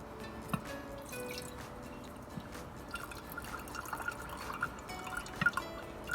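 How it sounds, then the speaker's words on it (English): Buttermilk from freshly churned cream is poured off into a jar, giving faint, quiet trickling and scattered drips with no talking. "pour this off into the jar"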